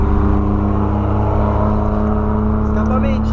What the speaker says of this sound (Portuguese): E esse barulhão desse carro aí?